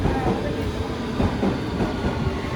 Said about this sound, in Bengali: তো আমাদের ট্রেন চলে আসছে, সবাই সাথেই থাকো।